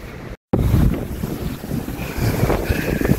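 Strong wind gusts in mountainous Bukod, Benguet, rushing and buffeting loudly against the microphone after a brief dropout. The roar is continuous and swells in waves, with no voices.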